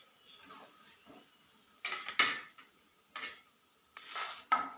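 A snack frying in a pan is turned over, giving a few close scraping, clinking strokes of a utensil against the pan over a faint background sizzle.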